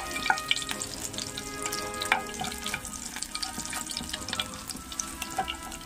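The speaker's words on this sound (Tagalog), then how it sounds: "Yung balat na manok, pinamantika ko." Chicken skin fries in a pan to render cooking fat, giving a continuous crackling sizzle with sharp pops and some stirring scrapes, close and steady, with no one speaking.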